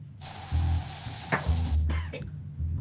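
Spray bottle being squirted aboard a cruise ship, several short hissing bursts of mist of varying length with brief gaps, fairly close and clear.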